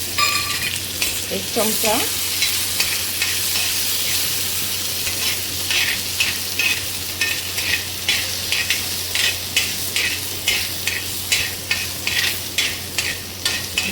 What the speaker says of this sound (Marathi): मोहरी छान तळतळत आहे